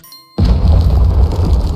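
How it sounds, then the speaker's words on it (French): A detonator blast in the video game Coal Mining Simulator goes off suddenly after a near-silent moment, a loud, deep boom that stays as a heavy rumbling roar to the end, with nobody speaking. "Magnifique l'explosion, le bruit était juste magnifique."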